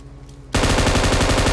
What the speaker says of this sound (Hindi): और साइड में से भाई फायरिंग चलने लगी थी स्क्वाड हाउस में